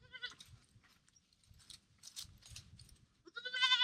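Goats on a farm bleat several times, the calls rising loudest near the end, with low shuffling and rustling noises between them and no talking.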